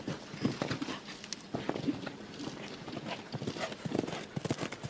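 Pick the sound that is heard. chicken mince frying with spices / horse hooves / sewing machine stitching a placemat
horse hooves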